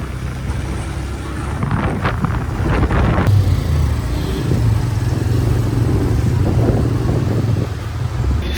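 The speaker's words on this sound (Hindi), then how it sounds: "आई थिंक मेरा बाइक आ चुका है" A bike taxi motorcycle engine arriving outdoors, a loud steady idle and rumble with strong wind buffeting on the microphone, engine continuing throughout with no talk.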